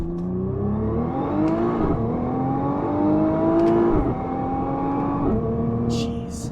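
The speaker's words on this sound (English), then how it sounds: "You mash the brake and the gas at the same time, get the revs up, lift off the brake, and then the car will rocket off" A 2021 Nissan GT-R launches hard under launch control, climbing uphill. The engine screams upward through several quick gear changes, each marked by a brief dip before the whine climbs again, close and loud with no talking.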